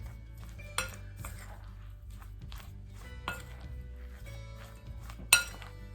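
A spoon stirs cornstarch-coated chicken pieces in a bowl, with soft scraping and a few sharp clinks against the dish spread over several seconds, close and fairly quiet.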